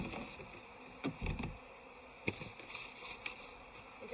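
Honeybees buzz around their hive colonies, a steady insect drone with several louder passes as individual bees fly close by.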